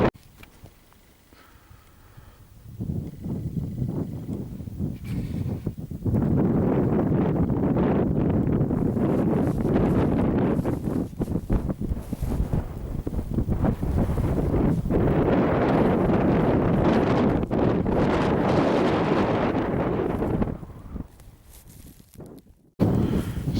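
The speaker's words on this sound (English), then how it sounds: "The wind's coming from the northwest." Strong, cold northwest wind buffets the microphone on an exposed hilltop crag in snow showers, a loud continuous roar that builds after a few seconds, holds steady with gusting surges, then drops off briefly near the end.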